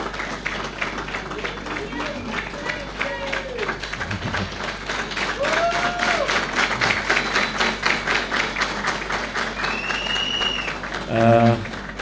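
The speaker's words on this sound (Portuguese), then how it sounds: "Uma salva de palmas bem forte também para a Esmeralda." A crowd at a party meeting in Beira, Sofala, claps in a sustained round of applause while voices talk over it, ending with a brief louder burst.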